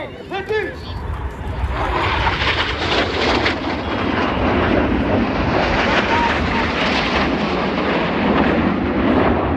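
An RAF Red Arrows jet trailing red smoke sweeps past at the Cosford air show, a loud roaring rush that swells and holds steady as it passes, with a brief chirp of other sound at the start.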